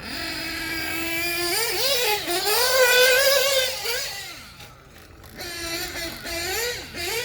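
Force Pro 21 nitro RC car lapping a track: a high, buzzing small engine whines and rises in pitch as it accelerates, drops briefly as it backs off, then revs up again, fairly close throughout.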